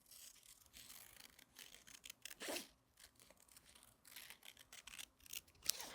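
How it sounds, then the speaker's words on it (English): Scissors snip through paper-backed fabric for quilting, with quick bursts of crisp cutting and rustling paper, close and fairly quiet, and no one speaking. "You see how I'm wiggling my paper around rather than moving the scissors?"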